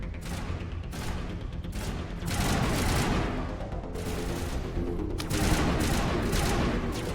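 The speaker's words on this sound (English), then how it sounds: "Now, this is the perfect assault rifle range." Assault rifle fire in the Mass Effect video game, loud rapid bursts of automatic shots that come in repeated volleys with short gaps between them.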